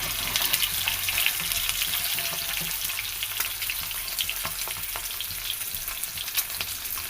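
Eggs frying in oil in a pan with turmeric and salt for an egg tomato curry, giving a steady, close crackling sizzle throughout, punctuated by light stirring scrapes, with no talking.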